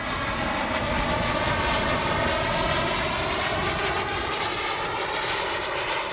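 A model MiG-31 jet's turbine engine runs with a steady, loud, continuous roar and high whine, close by and unbroken for the whole stretch, with no other sounds over it.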